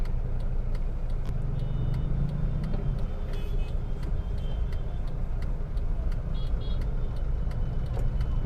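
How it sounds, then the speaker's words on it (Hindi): Turn indicator of a car idling at a red signal, a regular ticking repeated over a low steady engine hum inside the cabin, with no speech. "मैंने इंडिकेटर लगा रखा है"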